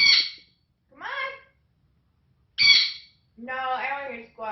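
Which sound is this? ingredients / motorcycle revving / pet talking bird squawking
pet talking bird squawking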